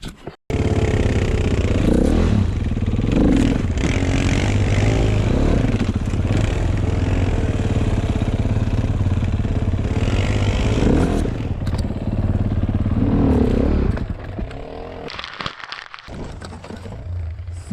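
An enduro motorcycle ridden over rough, rocky terrain in Yakutia drones loudly with repeated revving surges, clatter and scraping, then drops to a quieter idle near the end.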